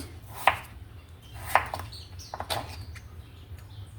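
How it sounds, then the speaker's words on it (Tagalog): A knife chops chayote (sayote) into cubes on a board, three or four sharp, close knocks spaced about a second apart over a low steady hum, with no talk. "mag cube lang tayo dito"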